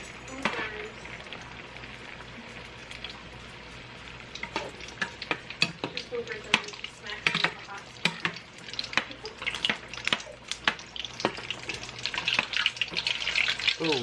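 Oil bubbling and spitting in a pan while frying redneck-style egg rolls, a steady crackling sizzle that grows busier toward the end, with occasional clinks and stirring sounds.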